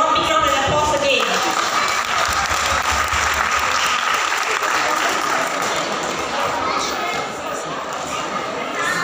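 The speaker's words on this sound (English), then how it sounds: "Parents, please can give them a round of applause and applause again." Parents at a school event give steady, full applause that runs throughout, loud and dense, with some voices and chatter mixed in.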